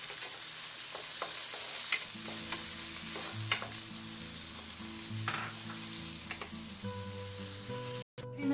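Chicken a la king with carrots and whole kernel corn simmers in a pan, giving a steady close sizzle and bubbling with occasional stirring clinks, no talk.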